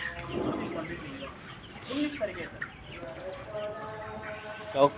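Chickens on a poultry farm cluck and murmur in a mixed, moderate chorus, with scattered clucks rising over a busy background and a voice speaking in the foreground.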